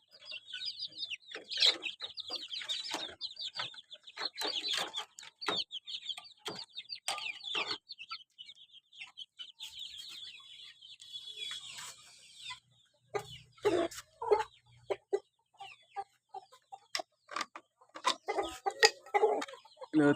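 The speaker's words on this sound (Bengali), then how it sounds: "এখানেও 3 প্রজাতির মুরগি আছে:" Brahma, Tiger, Fayoumi and local free-range chickens on a small hobby farm cluck and chatter in irregular bursts, fairly quiet with short gaps of near silence and no talking.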